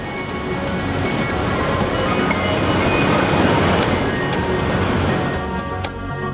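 Whitewater rapids on the Snake River in Hells Canyon, just below Hells Canyon Dam, make a loud, steady, broadband roar of rushing water that carries on without a break throughout.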